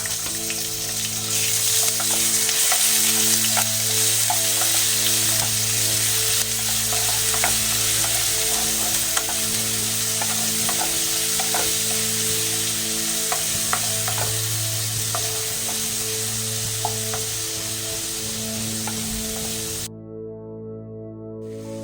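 Green chillies and ginger garlic paste sizzle loudly in hot oil in a pan for egg biryani, a steady spitting hiss with scattered pops that drops away sharply at the end.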